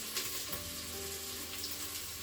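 Pork frying in the inner pot of a Crockpot Express pressure cooker, a soft continuous sizzle with faint crackles, close and steady for a couple of seconds.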